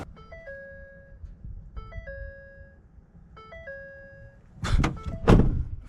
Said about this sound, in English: Ford with that door chime noise never fails to make me laugh